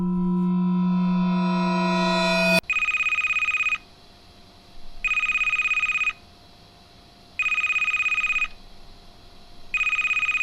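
Video game telephone in a sewer setting rings in loud, steady electronic bursts, roughly one second on and one second off, repeating several times after a brief tonal sweep, with no talking.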